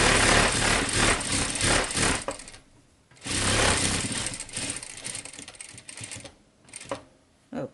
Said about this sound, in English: lower the presser foot, back stitch, and go ahead.